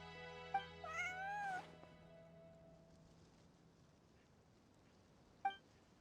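A cat in Genshin Impact gives a couple of short, clear meows early on, a brief wavering cry rising and falling, followed by quiet and then one more faint, short mew near the end.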